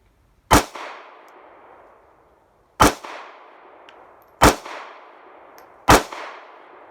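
Four sharp, loud shots ring out from a Smith and Wesson Bodyguard 380 pistol at an outdoor range, each crack trailing a short decaying echo, spaced irregularly about one to two seconds apart with no talking.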